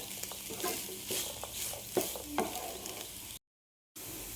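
A spoon stirs banana flower thoran with cowpeas in a pan, making scraping and scuffing strokes over a soft frying sizzle, close up, before a brief cut to silence and back.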